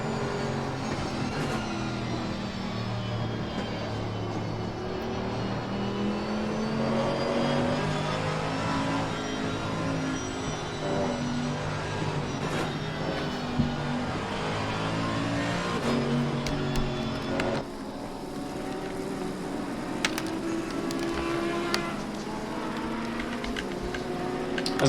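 Race car engines from a Mercedes AMG GT and a Porsche lapping Suzuka in a racing game, a steady droning roar with shifting pitch, revs rising and falling as the cars run close together, with brief tire squeal.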